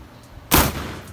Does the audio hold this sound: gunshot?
yes